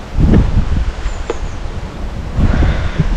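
Gusty wind buffets the microphone with a low rumble during a storm by the Dnieper estuary, and a faint wash of strong waves or rain hiss sits underneath.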